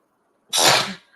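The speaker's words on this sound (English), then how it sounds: "I've got the sneezes." A single sharp sneeze bursts out of near silence, loud and close, then fades quickly.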